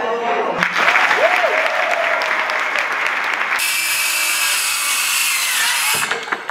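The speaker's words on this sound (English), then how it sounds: "Hands up, clapping." A school audience claps in a dense, continuous burst of applause, loud and close, with voices and cheers mixed in before it cuts off abruptly.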